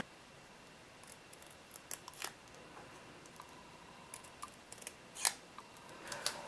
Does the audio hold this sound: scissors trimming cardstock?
yes